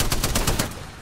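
A rapid burst of automatic gunfire from a Spitfire light machine gun in an online shooter game, several quick evenly spaced shots crackling loudly before trailing off.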